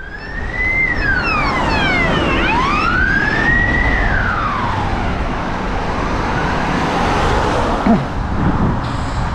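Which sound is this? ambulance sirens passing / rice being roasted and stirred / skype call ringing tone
ambulance sirens passing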